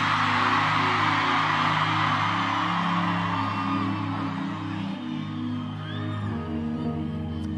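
A large concert crowd at a tour show screams, whoops and cheers loudly and continuously, with sustained music and held tones beneath the roar.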